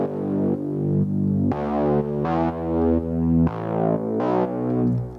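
A rich, buzzy synthesized bass plays sustained notes that change pitch every second or so, with a slightly distorted, chorus-like tone and no voices.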